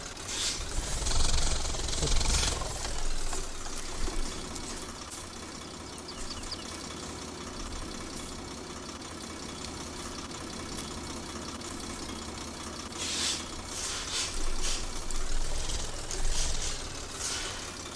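New Holland 3630 tractor engine in Farming Simulator 22, a quiet, steady, low idling rumble that holds throughout with slight swells and no talk.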